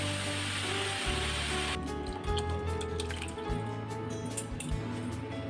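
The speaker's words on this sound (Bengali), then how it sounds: "আমি দুধটা ঢেলে দেব।" Milk is poured steadily from a container onto 1 kg of grated carrots in a pot for Punjabi-style carrot halwa, a continuous close liquid stream with dripping and splashing texture, no voices.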